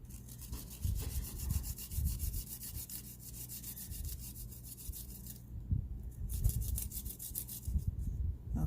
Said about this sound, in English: Get it all grated up. This grater do a good job.